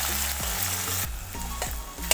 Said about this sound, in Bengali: তেল গরম হয়ে আসলে এখানে দু তিনটে এলাচ দিয়ে দিতে হবে এরপরে কেটে রাখা পেঁয়াজগুলো দিয়ে দিতে হবে